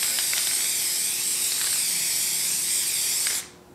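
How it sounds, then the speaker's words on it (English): A steady spray of aerosol tack adhesive for screen printing hisses for about three and a half seconds, close and loud, then cuts off abruptly. "the first thing we need is a little spray tack."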